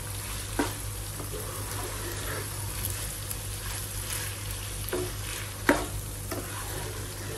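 Spiced karela qeema, bitter gourd cooked with minced meat and garam masala, sizzles steadily in a pan, with a few soft scrapes and knocks as it is stirred, close and moderately quiet.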